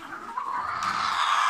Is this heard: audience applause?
no